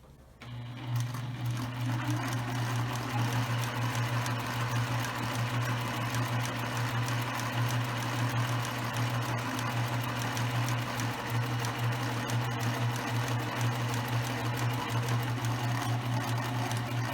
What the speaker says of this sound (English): We just finished sewing both sides of the fabric here